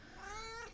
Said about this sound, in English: she's also, when she gets in a mood like this, she's noisy. Very noisy.